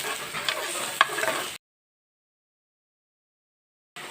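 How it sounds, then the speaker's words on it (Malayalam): Chopped onion and green chilli sautéing and being stirred in hot oil, a close, busy sizzle with scraping for about a second and a half, then dead silence before the sizzle returns briefly at the end. "ഈ എണ്ണയ്ക്കകത്തേക്ക് നമുക്ക് അരിഞ്ഞു വെച്ചേക്കുന്ന സവാളയും പച്ചമുളകും ഇട്ട് കൊടുക്കാം"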